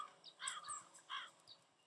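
Crow-like cawing from a bird in the Psychonauts video game, a few harsh calls of a second or so each, moderately close and fairly quiet, with no talking over them.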